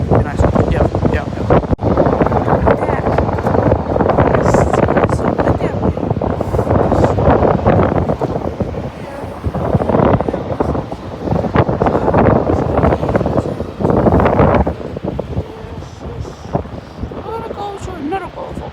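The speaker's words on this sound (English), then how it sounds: "It's so windy." Strong wind buffets the microphone in a snowy wasteland in Iceland near a waterfall, a loud, rushing roar that swells and eases in gusts, with a person talking faintly under it.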